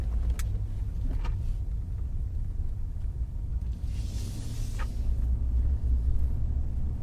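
Cars roll through a four-way stop intersection, producing a steady low rumble of traffic with road noise building and fading as vehicles pass nearby. Faint brief clicks and a short hiss of passing tires are also audible.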